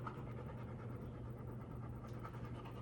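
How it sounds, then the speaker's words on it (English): A dog pants steadily in quick rhythmic breaths, close and fairly faint, over a constant low rumble. "I got the dumb dog with me."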